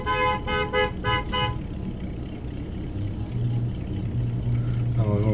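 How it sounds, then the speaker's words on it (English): A car horn honks on Woodward Avenue in Detroit, with several short, loud toots early on, then a lower, sustained horn blaring later over the rumble of road traffic and engines. "Trying to figure out what they were honking at."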